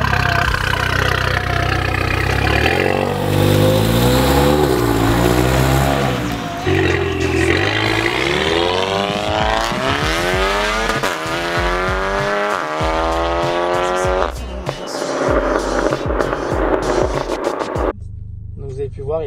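Car engine revving hard and pulling away in sport mode, the exhaust valve opening past a set rev limit, loud and close with rising and falling pitch sweeps, ending in an abrupt cut.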